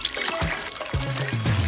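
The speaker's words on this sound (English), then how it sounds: "Make a bunch and pour on some water." Water trickling and pouring onto rolled-up toilet paper shapes, a soft, continuous liquid dribble with a few brief splashy surges, close and moderately quiet.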